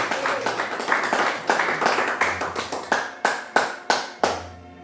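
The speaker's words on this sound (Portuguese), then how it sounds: "bater a melhor salva de palmas que esta igreja já bateu para Jesus" Church congregation applauding together, sharp rhythmic claps in distinct bursts that settle into a steady, fairly close clapping pattern with no talking over it.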